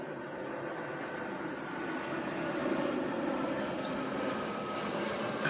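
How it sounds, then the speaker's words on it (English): A propeller-less fixed-wing airplane passes overhead as a steady, broad roar that swells slightly midway through, heard alone with no talking. "we let this plane pass."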